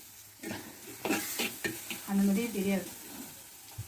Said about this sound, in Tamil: விறகடுப்புலன்றதுனால மிதமான சூட்டில் அப்படியே லைட்டாக நல்லா வதங்குது